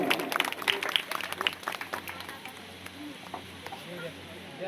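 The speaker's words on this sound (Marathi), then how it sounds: "सर्वांनी टाळ्या वाजवून स्वागत करा." An audience at a Buddhist Dhamma gathering applauding to welcome a guest, a burst of clapping at the start that thins out and fades, with a voice over a loudspeaker audible beneath.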